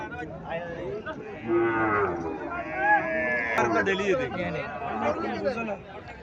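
A Sahiwal cow moos long and low at a busy cattle market in Comilla, the drawn-out calls rising over crowd chatter and people talking nearby.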